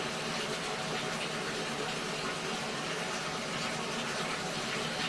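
Water runs steadily through a pipe with a constant, even hiss and rush that holds without change, moderately quiet and close, with no voices.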